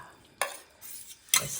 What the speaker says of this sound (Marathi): चलो ह्या प्लेटमध्ये आम्ही मॅगी काढणार आता.